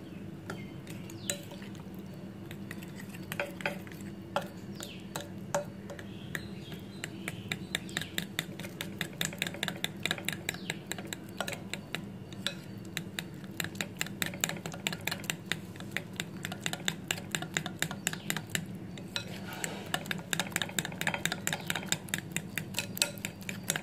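Ragi chocolate muffin batter stirred in a bowl, a long run of rapid, close ticking and tapping strokes that grows denser and more regular over time, with no talking.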